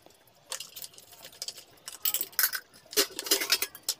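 Steel utensils and a pressure cooker are washed by hand with warm water in a home kitchen. Bursts of clinking, clattering metal and water splashes come close up and irregular, with no talking.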